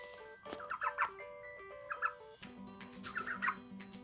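A baby turkey indoors makes soft, faint high chirps and peeps in small clusters, with quiet pauses between and a low steady hum underneath.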